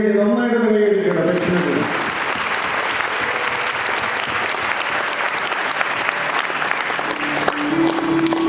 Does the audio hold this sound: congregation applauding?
yes